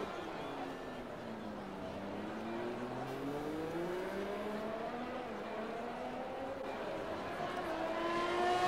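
A Ferrari in the F1 2020 video game drives along a track with a steady engine whine that rises and falls in pitch through gear changes, moderately loud and building toward the end.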